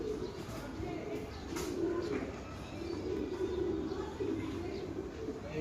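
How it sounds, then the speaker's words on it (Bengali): A racing pigeon coos softly and repeatedly in low rolling phrases, close by, against a steady quiet background. "এটা আলহামদুলিল্লাহ ভালো একটা কবুতর"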